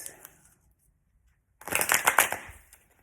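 A deck of tarot-style cards is shuffled up close, a quick burst of crisp riffling and snapping after a brief soft rustle and near silence.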